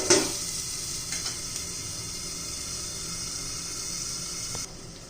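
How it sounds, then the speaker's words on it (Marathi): Onion and tomato frying in a pan give off a loud, steady sizzle, with a sharp burst at the start as they hit the oil and occasional stirring scrapes; no speech. "त्याच्यावर आपण झटकन घेऊया चांगलं मऊ करून घ्यायचं आहे आपल्याला कांदा टोमॅटो"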